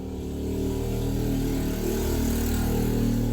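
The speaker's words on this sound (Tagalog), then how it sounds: "Motor to na to na." A motorcycle engine hums loud and close, a steady low rumble that swells slightly as it passes, continuous throughout with no talk over it.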